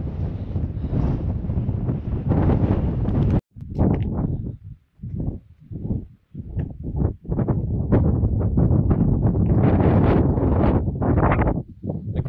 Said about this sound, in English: there's a bit of a wind, but it's not really strong. But you get the odd gust